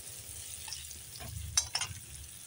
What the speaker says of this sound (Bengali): এখন লবণ হলুদ দিয়ে একটু আলুটা ভেজে নিচ্ছি।